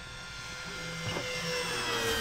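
A Dynam P-61 Black Widow RC warbird, a 1500mm electric model on a 4S battery, flies overhead with a smooth, steady motor drone that swells slightly as it passes, with no talk.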